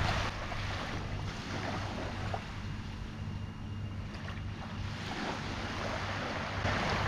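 Early-morning sea at a Koh Chang island resort in Trat, with a steady wash of waves and surf at high tide and a broad, continuous roar of water and light wind; a low, constant engine-like hum runs beneath.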